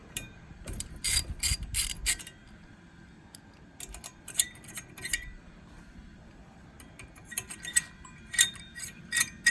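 A ratchet wrench clicks rapidly in short bursts while snugging aluminum 15mm bolts on a BlackHawk TITAN 210 paramotor, close and crisp, with pauses and handling noise between the runs.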